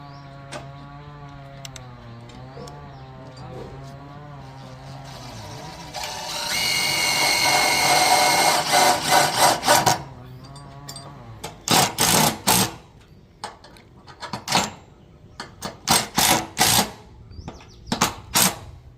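A power drill drives bolts into a roof rafter to fix a solar panel mount, whirring in a long sustained run and then in several short bursts with pauses, loud and close.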